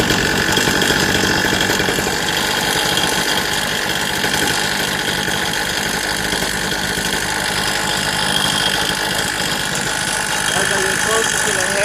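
An engine runs steadily with a suspected broken ring knock, a loud close rumble with a fast repetitive knocking texture throughout.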